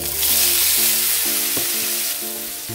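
Boiled potatoes with dried red chili and turmeric powder hitting a hot pan, a loud, close sizzle with a few clinks of a utensil and a tonal hum underneath, tapering slightly near the end.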